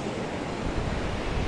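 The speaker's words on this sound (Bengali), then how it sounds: "দেখো ঘুরে ঘুরে একটু দেখাবো সমুদ্রে কত ঢেউ আসছে।" Sea waves break on a beach at sunrise, a loud, continuous roar of surf with wind buffeting the microphone.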